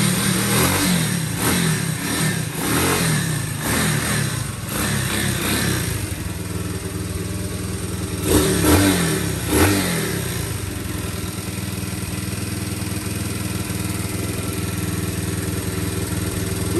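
A low-budget CT70 clone minibike engine revs in several sharp bursts early on and again midway, then settles into a steady, fairly loud idle, close by with no talking.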